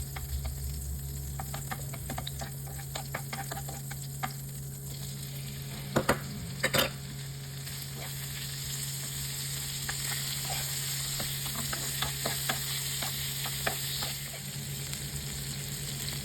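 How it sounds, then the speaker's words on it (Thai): Shrimp stir-frying in butter in a pan produce a continuous soft sizzle under a constant hum, with scattered light scraping and ticking from a utensil and a couple of brief louder clacks midway, no talking. "ผัดกุ้งกับเนยจนสุก"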